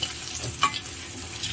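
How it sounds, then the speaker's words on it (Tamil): Cut okra sizzles and crackles softly in hot oil in a pan as it is stirred, with one brief louder scrape or clatter partway through; the cooking noise stays faint and close throughout. "இப்போ நம்ம கட் பண்ணி வச்சுருக்கிற வெண்டைக்காவை ஆட் பண்ணிக்கலாம்."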